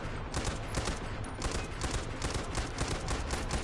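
Sustained gunfire in the video game Far Cry 4 while defending a monastery: a dense, continuous fusillade of rapid shots, loud and close, with no talk over it.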